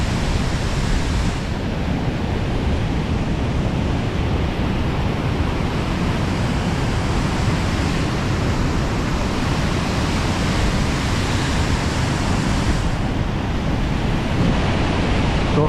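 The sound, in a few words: water pouring down waterfall spout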